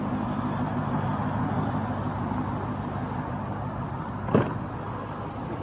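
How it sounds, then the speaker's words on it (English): A parked car left with its engine idling, a steady low hum throughout, with a single brief clunk or knock near the end. "Oh, did they leave the car on?"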